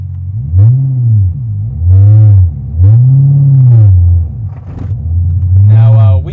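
A used Chevrolet Corvette C6 Z06 with 72,000 kilometers throbs through four loud, close swells in quick succession. Each deep engine note rises and then falls away before the next one surges.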